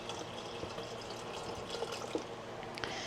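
Water poured steadily from a container into a tub of ice cream mix with cream for a Ninja Creami, a continuous close splashing trickle with small bubbling gurgles, no voices over it.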